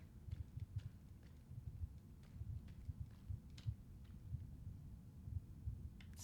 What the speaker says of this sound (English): there's definitely like a heartbeat sound I think that I can hear.